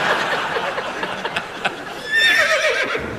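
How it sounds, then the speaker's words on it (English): A horse whinnies as a comedy sound effect in a radio panel show, a rising, warbling neigh near the end after muffled background noise and faint audience stir. "He's a very old horse."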